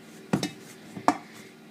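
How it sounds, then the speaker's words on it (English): A spoon knocks and scrapes against a bowl while beating butter for cookie dough, a few quick clinking taps in two short bursts, close and fairly quiet. "You want to make sure that you beat down all of the butter by using the back of the spoon."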